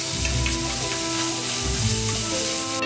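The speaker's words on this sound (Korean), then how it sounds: "기름을 두르고 다진 두부를 넣고 잘 볶아주세요" Minced tofu stir-fries in an oiled frying pan, giving a loud, continuous close sizzle with stirring scrapes beneath light background music.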